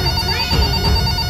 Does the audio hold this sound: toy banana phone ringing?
yes